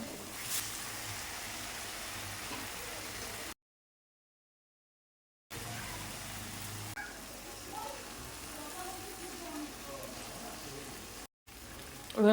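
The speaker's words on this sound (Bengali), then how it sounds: "মশলাটা কিন্তু গ্যাসটা কমিয়ে কষাতে হবে, তাহলে মশলাগুলো পুড়ে যাবে" Spiced masala for boneless Bombay duck (lote fish), with Kashmiri chilli powder, sizzles in a pan over low gas. The steady, moderate frying hiss stops for a two-second gap and then resumes, with faint background noise.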